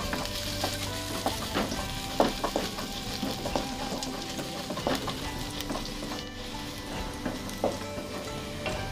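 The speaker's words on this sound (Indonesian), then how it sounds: "langsung saja tambahkan sedikit minyak, tumis bawang putih dan jahe" Garlic and ginger sizzle in a little oil in a wok, a steady close frying crackle with scattered clinks and scrapes of stirring, and no voices.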